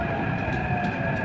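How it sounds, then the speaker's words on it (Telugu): A metro train carriage rolls toward Parade Ground station, filling the interior with a steady, even rumble and a constant electric whine, with no talking. "ఇది మెట్రో, మేము ఎక్కాం, చాలా బాగుంటుంది."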